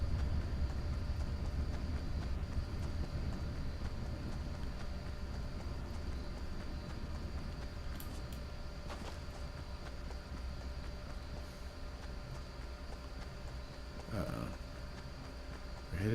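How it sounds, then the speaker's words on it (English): Steady low rumble of commuter trains rolling past a house at night in a Fortnite game, a continuous heavy drone lasting throughout with a faint high whine and a brief rattle near the end. "there are a lot of commuter trains coming by my house tonight."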